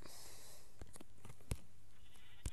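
A sheep bleats faintly in the Minecraft video game, with short wavering calls set among a few sharp clicks and taps over a quiet background hiss.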